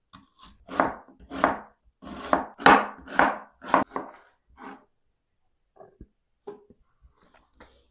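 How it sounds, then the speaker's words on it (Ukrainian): A knife chops an onion into half rings on a board, giving about a dozen crisp close cuts in an uneven rhythm that thin out to a few scattered taps. "Наріжу її півкільцями."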